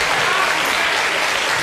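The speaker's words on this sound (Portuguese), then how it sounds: "Mais aplausos pra ela ainda." A studio audience on the Brazilian TV talk show Agora é Tarde applauds in a loud, dense, continuous burst of clapping that stays even throughout.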